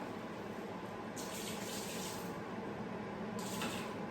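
Water runs steadily from a kitchen tap into a sink during a pre-workout rice crispy treat experiment, a continuous close hiss with brief louder surges as the flow changes, and no voices.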